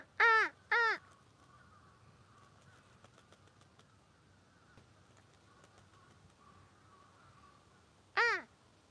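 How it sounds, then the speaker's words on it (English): Crow cawing as it bathes in Tokyo's Yoyogi Park: two harsh caws in quick succession at the start and a third near the end, loud and close over a faint hum of distant park noise. "Look at that dangerous bird taking a bath."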